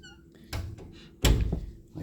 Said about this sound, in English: So when you close the door,